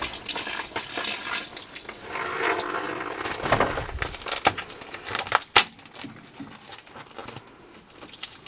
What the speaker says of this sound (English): You'll actually hear the water slow up once you have both of these.